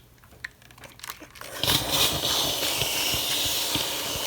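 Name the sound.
steam iron steaming a crocheted doily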